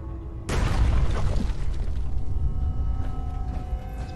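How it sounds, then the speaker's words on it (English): A sudden loud boom hits as an explosion takes out a walkway in a video game, followed by a rumbling, crackling decay that fades slowly over several seconds. "Maybe that was the explosions we heard."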